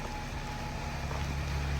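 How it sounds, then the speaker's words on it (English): Heavy rain pours down steadily outdoors as a dense, continuous wash of hiss with a low rumble beneath, no voices present. "And now it's chucking it down with rain"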